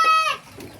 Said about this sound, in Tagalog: Ganda Indian ringneck.